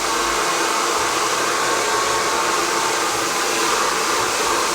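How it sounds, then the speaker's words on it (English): A blow dryer drying hair runs steadily up close, a loud continuous airy whoosh with a motor hum and no voices. "use the cool button on your blow dryer and it blows cooler air"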